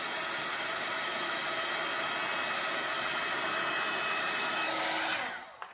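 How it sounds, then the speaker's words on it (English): A heat gun blows continuously at close range as it melts embossing powder on heat resistant acetate, a loud, even roaring hiss that holds steady before cutting off near the end. "I'm just moving that heat gun over the image"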